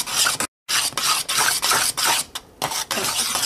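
Chopped dry fruit and figs being mixed into a thick, sweet fasting dough, giving a continuous loud rasping, rubbing stir with brief pauses and no talking.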